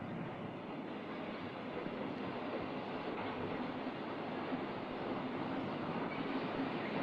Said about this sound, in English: The erecting train consists of wagons normally used for carrying steel and a diesel-electric crane